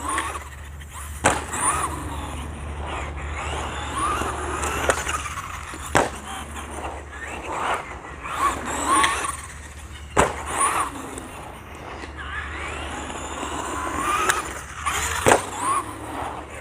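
A Traxxas Stampede 2WD RC truck races around fast, its motor whining and rising and falling in pitch over steady rolling and gravel noise, with a few sharp knocks and bumps along the way.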